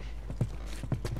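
Horse hooves clip-clopping in The Last of Us on PS4, two quick paired clops landing in an even walking rhythm over a low ambient hum, faint and brief.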